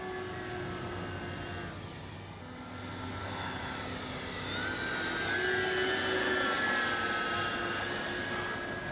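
Radio-controlled FlightLine P-38 1600mm twin-engine model warbird, its electric motors holding a steady whine that swells slightly toward the end, heard alone outdoors.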